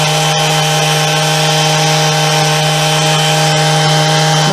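A power sander runs loud and steady against rough wooden edges of a clamp storage build, a continuous close whine and rasp with no pauses.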